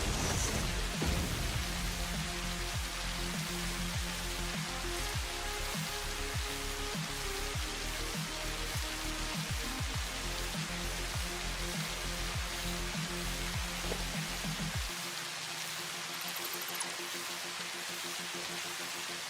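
Steady rain weather in a video game: a dense, even hiss of falling rain with scattered patters, continuous and unbroken, with no voices.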